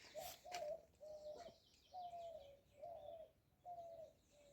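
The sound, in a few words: birds calling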